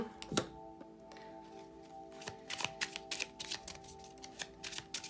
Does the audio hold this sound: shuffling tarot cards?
yes